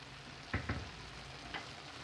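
Okra and chicken sizzle quietly in a pan, a soft constant hiss broken by a few faint clicks of stirring.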